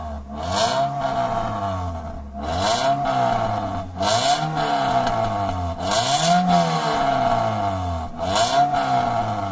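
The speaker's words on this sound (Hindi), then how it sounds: "गाड़ी का साउंड चेक करते हैं।" A 2011 Toyota Corolla GLi 1300cc engine revs repeatedly, rising and falling in pitch five or six times in a steady rhythm, loud and close.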